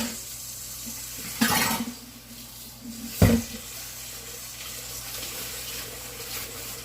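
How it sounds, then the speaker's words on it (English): Water runs from a tap into a bowl that held rye bread dough, in two short splashing bursts over a low steady background hum. "Put some water in here."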